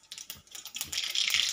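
Mustard seeds sputtering and popping in hot oil in a kadhai while cooking a Maharashtrian dish, a rapid run of sharp crackles that builds into a dense, continuous spatter.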